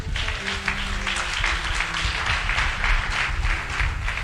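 Church congregation applauding in acclaim during a French-language sermon, a dense, steady wash of many hands clapping together, fairly loud and sustained throughout, with organ or keyboard tones held underneath.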